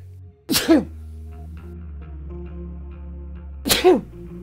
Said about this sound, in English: Going to sneeze.